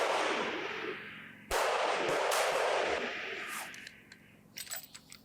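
Two sharp rifle shots ring out at a long-range shooting competition, each with a long rolling echo. Fainter clinks and knocks follow them.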